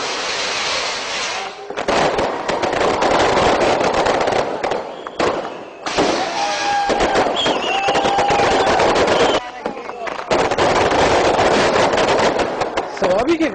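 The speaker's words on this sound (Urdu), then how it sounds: "سوابی کے گاؤں شاہ منصور میں آتش بازی کا یہ شاندار مظاہرہ" Fireworks display at a political party celebration in the village of Shah Mansoor, Swabi, Khyber Pakhtunkhwa: loud, continuous crackling bursts and rapid pops, nearly unbroken for most of the stretch with a few brief lulls.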